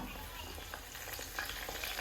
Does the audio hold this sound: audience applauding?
no